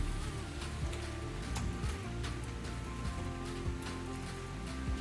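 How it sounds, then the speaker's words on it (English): Steady rain falling outdoors on a forest painting session, a constant broadband patter with occasional brief thuds and low rumbles underneath, no voices. "it is starting to rain in earnest here now"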